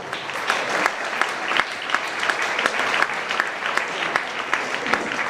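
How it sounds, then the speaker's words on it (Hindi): An audience at a motivational seminar at Phoenix IIT Academy claps for class 10 toppers, a steady, dense round of applause that carries on loudly throughout with no break. "प्लीज तालियां बजाकर बच्चों का उत्साह बढ़ाएं।"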